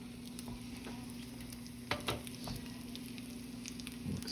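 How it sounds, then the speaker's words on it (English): Pork sautéing in a pan gives off a steady, quiet sizzle with a few sharp pops and crackles, recorded up close with no talking. "That's what you want to hear, is that sizzle."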